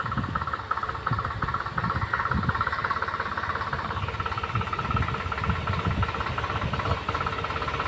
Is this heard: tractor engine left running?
yes